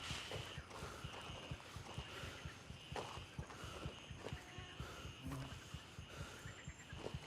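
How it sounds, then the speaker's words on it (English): Footsteps in the tactical shooter Gray Zone Warfare during monsoon season: a quiet, steady run of soft thuds under a constant hiss of rain and ambient noise, sounding somewhat distant, with no talking. "I'm hearing somebody's footsteps."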